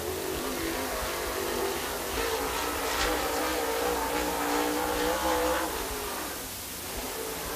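A super late model race car laps a dirt speedway, its engine a steady loud roar that swells and fades slightly as it passes around the track.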